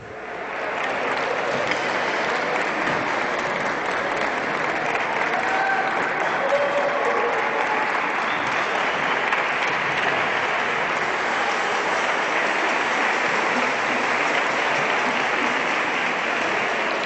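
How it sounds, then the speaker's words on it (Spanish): Sustained audience applause at a regional senior citizens' queen pageant, a broad, even roar of many clapping hands lasting well over fifteen seconds without letting up. "para quien pido un fuerte aplauso"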